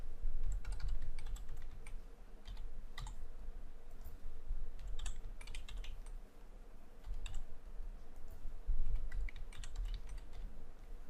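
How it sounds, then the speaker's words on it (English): Irregular bursts of keyboard typing, clattering keys tapped in quick runs with short pauses, fairly close over a low steady hum. "Now I am typing the marks for the student."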